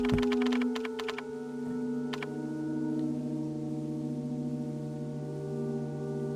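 A brief run of sharp keystrokes on an umbrella-branded computer keyboard opens the clip, then a couple of isolated clicks follow before a long stretch of steady low hum.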